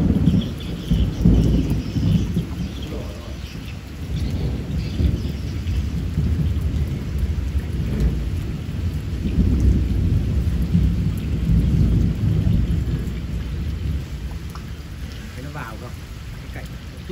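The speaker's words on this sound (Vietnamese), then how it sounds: "Trời thì nó cũng đã tối rồi mà mưa gió sấm chớp thế này" Rain pours heavily over a rural shelter at dusk during a thunderstorm, with deep rolling thunder rumbling continuously beneath it at close range.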